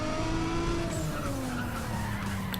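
A race car's tyres squeal in a long, loud skid under the steady roar of its engine, in the Need for Speed ProStreet racing game.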